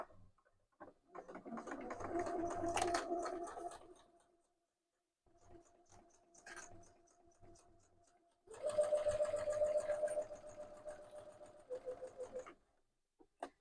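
A sewing machine runs in several bursts, backstitching forward and back with rapid mechanical clatter, pausing briefly between runs.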